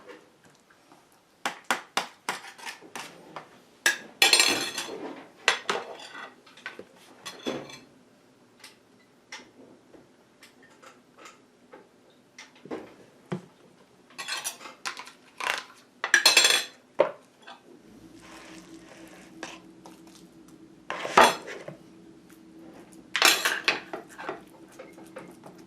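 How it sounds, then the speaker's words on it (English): An egg turner scrapes and clinks against a plate while lifting turkey burgers, sharp metallic knocks and scrapes arriving in irregular bursts with quiet gaps between them, close and without talk. "Scrape it up with the egg turner."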